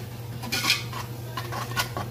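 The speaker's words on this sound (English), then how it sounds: "Now stir this while you're doing that." A utensil scrapes and clinks in a pot as onions are stirred for French onion soup over high heat, a few quiet scraping strokes against a low kitchen hum.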